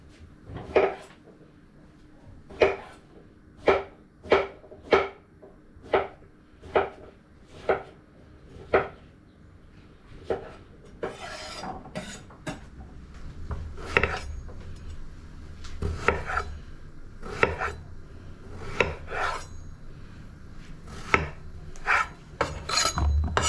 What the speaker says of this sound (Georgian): დავიწყოთ უკვე დაჭრა ინგრედიენტების